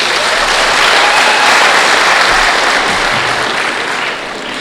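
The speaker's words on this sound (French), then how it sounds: "Applaudissez pour vous-même." A crowd at a collective wedding ceremony in Tenkodogo claps loudly and continuously, a thick, close wave of applause that tapers off slightly toward the end.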